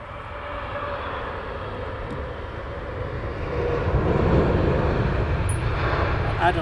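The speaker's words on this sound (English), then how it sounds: "It's the Dreamliner. Virgin, Dreamliner," A Virgin Boeing Dreamliner arriving at Heathrow Airport in the evening produces a broad, steady jet roar that swells louder over several seconds as it nears, with a voice speaking over the noise.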